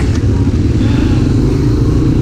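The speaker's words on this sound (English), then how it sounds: "while my bike's idling" Motorcycle engine idling at an American Supercamp dirt-track session, a loud rough low rumble that stays steady and close throughout.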